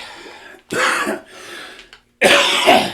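Two harsh, forceful coughs burst out close up, separated by a short rasping throat-clearing sound.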